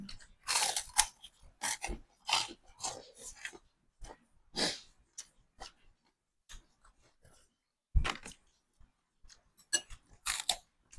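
Close, crunchy chewing of Thai mixed papaya salad, with bursts of crisp bites and mastication coming in irregular clusters separated by short pauses.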